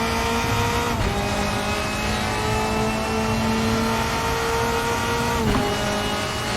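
A 2003–2005 DTM race car in the RaceRoom racing game winds up hard around the Nürburgring, its engine note rising loud and constant, with two quick drops as gears shift before climbing again.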